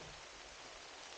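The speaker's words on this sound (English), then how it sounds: "It's been raining hard for a while, and it's getting sticky and slippery." Hard, steady rain falls outdoors on a rocky, muddy trail during a monsoon downpour, a dense, even hiss filling the brief moment with no voices.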